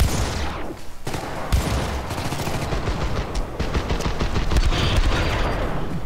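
Gauss rifle fire in the Syndicate video game, dense and loud, with heavy booming volleys and rapid cracks layered into a continuous roar of battle lasting the whole stretch.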